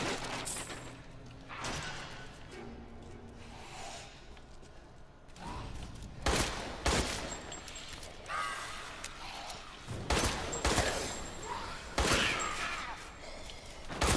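Gunshots in the video game Resident Evil Village, several sharp loud reports spaced irregularly over shifting game ambience and mechanical clanks.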